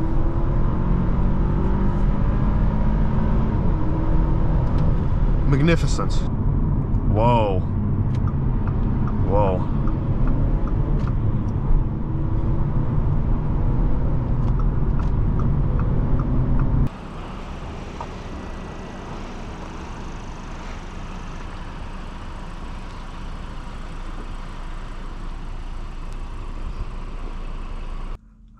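A 2024 Audi A4 45 TFSI Quattro driving hard on a test drive: loud, continuous engine and road roar with rising and falling revs. A man briefly exclaims over it before the sound drops to a quieter, steady cabin hum.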